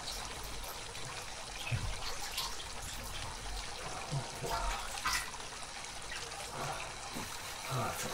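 Warm water trickling and splashing steadily in a fountain, a soft continuous burble with small bright splashes throughout, close by and moderately quiet.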